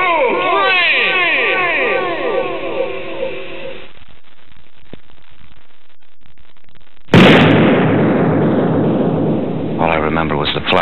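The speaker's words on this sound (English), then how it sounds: "All I remember was the flash of the muzzle of Burr's pistol." A single loud pistol shot cracks out in a dramatized duel with Burr, cutting in suddenly after a stretch of voices and tonal sound, then trailing into a sustained, roaring rumble.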